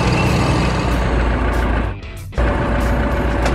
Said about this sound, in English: It's a bulldozer.